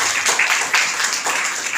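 Audience applause for a ma'am at an e-waste management awareness campaign event, a steady wash of clapping that holds throughout at moderate loudness with no talk over it.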